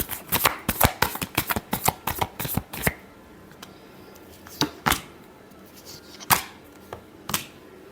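Tarot cards being shuffled by hand: a rapid run of crisp riffling slaps for about three seconds, then a few scattered single shuffles, close and dry with no talking.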